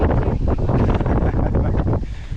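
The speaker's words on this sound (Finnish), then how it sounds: "mutta tää tuuli on melkoinen" Strong gusty wind buffeting the microphone outdoors during a gravel bike ride, a loud continuous low roar with rising and falling gusts.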